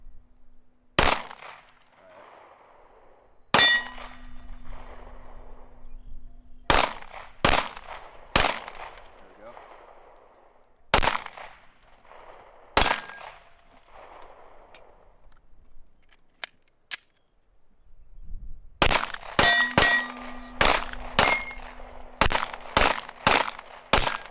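Pistol shots ring out at target practice outdoors, sharp single cracks spaced irregularly at first, then a quicker cluster of shots near the end, loud and close with quiet gaps between.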